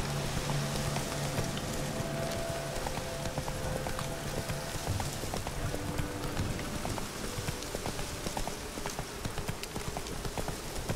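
Roach, a horse in the video game The Witcher 3, trots with a steady clip-clop of hooves over a constant bed of rain and ambient noise, with no talking.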